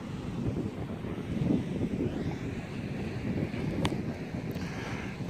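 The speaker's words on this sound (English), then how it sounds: "Got some surf today." Ocean surf rolls and breaks steadily on a beach under a light west wind, a continuous wash of white water mixed with gusty wind noise on the microphone, with no talking.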